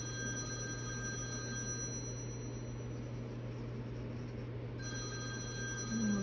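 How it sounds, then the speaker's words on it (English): A telephone rings steadily indoors, its repeating electronic trill running throughout over a constant low hum, with no one speaking. "And that's my husband's phone."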